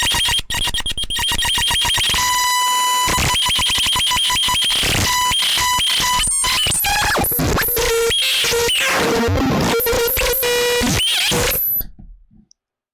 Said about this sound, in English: the C.U.N.T from Gen Thalz, the cut up noise thingy, a harsh noise synthesizer.